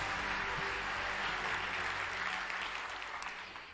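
Applause from an audience at the Pégases 2023 video game award ceremony, a dense steady roar of many clapping hands that fills the whole stretch, loud and close, slowly easing near the end.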